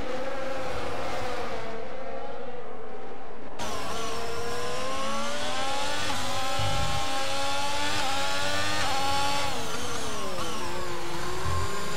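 Formula racing car engines in a racing video game at the Singapore circuit, high-pitched screaming engines rising and falling through gear changes, loud and continuous throughout.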